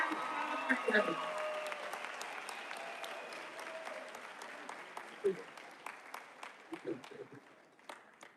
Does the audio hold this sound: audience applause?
yes